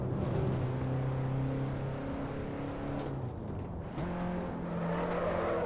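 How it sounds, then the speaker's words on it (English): An Alfa Romeo Giulietta street car in the Assetto Corsa racing game on the Nordschleife drones steadily, its engine note dipping and shifting as it downshifts to third, then revving again. "Need some power through here, that's why I'm downshifting to third."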